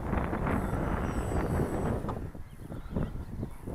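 Strong wind buffets a microphone outdoors beside a model aircraft flying field, loud continuous rumbling gusts that ease briefly before picking up again.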